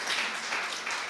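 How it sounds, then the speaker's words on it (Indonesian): A church congregation claps together in a steady, even patter of many hands, fairly distant and without voices over it. "Tepuk tangan dong buat Tuhan."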